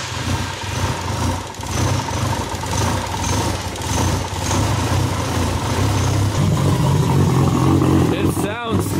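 Nissan Skyline R34 GTR engine runs through a newly fitted exhaust, a loud, close, steady rumble that builds slightly toward the end, with a brief voice near the close.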